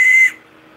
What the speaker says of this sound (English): This is an emergency whistle